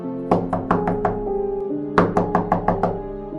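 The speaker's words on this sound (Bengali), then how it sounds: "দরজার উপরে ধাক্কাও থামল না।" Forceful knocking on a wooden door, two bursts of about five rapid, loud, close blows separated by a short pause, heard alone with no voices.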